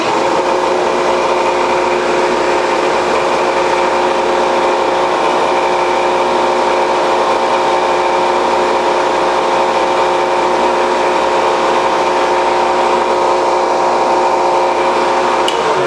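A milling machine cuts a part for a slipjoint folding knife, its motor giving a steady high whine with strong tonal bands. The sound is loud and continuous throughout, with no talking.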